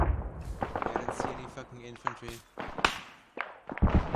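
Gunfire in the Arma 3 military simulation game during a joint operation, a run of sharp, booming reports and thuds, some near and some distant, scattered irregularly with a voice talking over part of it.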